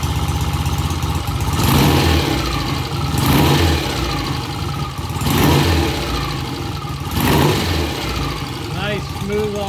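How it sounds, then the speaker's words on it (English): A vintage BSA A65 Lightning motorcycle engine idles steadily with several loud revving swells, close and continuous, its off-idle response sounding smooth; speech is faint underneath. "Nice smooth off idle, the bike sounds great."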